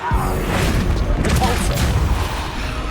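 Bombarda spell blast in Hogwarts Legacy, a loud booming impact amid continuous dense combat effects, with a voice speaking over it.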